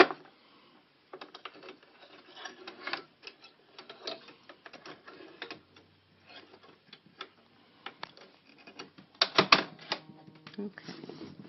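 A sewing machine stitching an outline in red thread over a second fabric layer, giving a fast, steady mechanical rattle that stops briefly and restarts, with a louder burst near the end.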